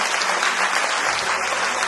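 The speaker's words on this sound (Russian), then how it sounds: "Давайте вместе поздравим ее аплодисментами." An audience at a nasheed performance applauds, a dense, even wash of clapping from many hands that holds steady and loud throughout.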